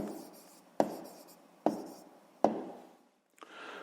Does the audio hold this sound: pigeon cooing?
no